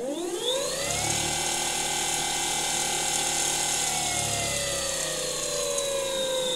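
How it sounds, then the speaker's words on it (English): A large CA120 motor, driven sensorless by a DIY ESC running MESC firmware, whines loudly as it spins up with a rising pitch, holds a steady speed and then slows, with faint mechanical rumbling underneath. "we're driving a large CA120 motor"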